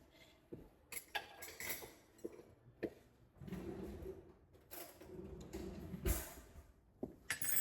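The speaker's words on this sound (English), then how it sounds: "Had to grab a new spoon" Spoon and utensils clink in a kitchen as someone grabs a new spoon while making a cheap prison-style meal; several short, light metallic taps and rattles sound close by amid quiet handling noise.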